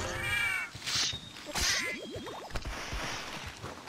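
A startled cat meows several times in the video game Monster Hunter 3rd, short rising and falling cries close up, mixed with game swishes and effects, no talking.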